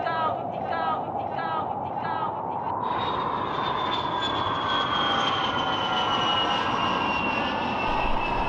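Airplane engine drone approaching in a cartoon animation, a steady roar rising with a whining tone that sweeps downward, continuous and fairly loud throughout, with talk over it in the first part.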